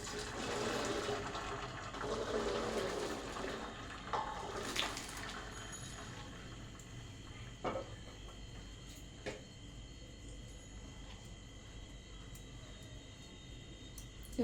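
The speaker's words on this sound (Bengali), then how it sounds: "এভাবে জলটা ঝরে যায়" Boiled rice is drained, the water pouring and trickling steadily out of the pot, loud at first and then thinning to a faint drip and splash over about fifteen seconds in a home kitchen.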